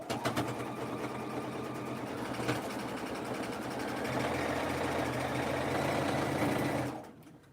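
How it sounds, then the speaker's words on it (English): Sewing machine stitching through four layers of vinyl for a snap top bag, a steady close mechanical whir with rapid rhythmic needle knocking that runs continuously for about seven seconds, then stops abruptly. "Is that sewing machine super loud?"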